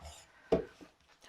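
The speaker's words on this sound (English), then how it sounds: "put some oil in there and chop up my onion" An onion is chopped for cream of broccoli soup: one firm, close knock of the blade on the board, followed by two softer, quieter taps at uneven intervals.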